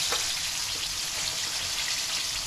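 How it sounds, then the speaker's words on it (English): Onion stir-frying in a pan gives a steady, dense sizzling hiss with faint crackles, close and continuous, with no voices. "What I would do is to start that with stir frying my onion."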